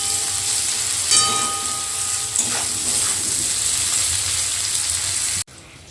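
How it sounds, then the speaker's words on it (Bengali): Onion and potato fry in a pan with a steady sizzling hiss and a couple of brief clatters of utensils, fairly loud and close, cutting off near the end. "পেঁয়াজ আর আলুটা ভাজা হতে হতে"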